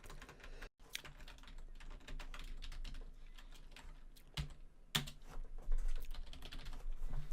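Fingers type quickly on a computer keyboard nearby, producing a dense, continuous patter of key clicks with a few sharper strikes and one brief pause.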